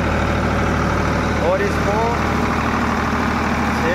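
Diesel engine of a Farmtrac 50 tractor holds a steady 1500 RPM with a constant low drone throughout, while someone talks briefly over it.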